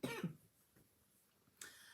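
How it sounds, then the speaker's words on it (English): A couple of close, harsh coughs from a person with a lingering cough at the start, a quiet pause, then another short cough-like burst near the end. "I'm sorry for the coughing."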